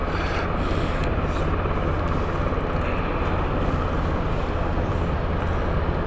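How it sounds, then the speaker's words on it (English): Steady, loud engine and rotor roar from a helicopter flying near Stansted Airport, a continuous broadband drone holding level throughout with no voices. "When you're just seeing this helicopter."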